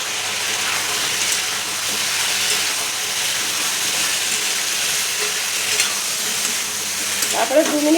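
Spiced vegetables seasoned with sugar, salt, turmeric, coriander and cumin sizzle steadily in a pan, with continuous frying hiss and intermittent stirring scrapes near the end.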